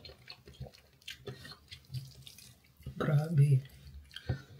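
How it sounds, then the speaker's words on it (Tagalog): Water is poured into a pot of home-cooked soup, a short splashing pour near the end amid kitchen clatter and someone speaking softly. "Siguro dagdagan ko siya ng tubig"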